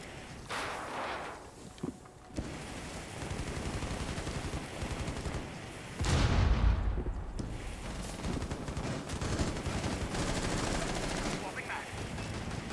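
Gunfire in Rainbow Six Siege mixes with a thrown frag grenade going off in a heavy low blast mid-clip, followed by steady rapid shots and clatter.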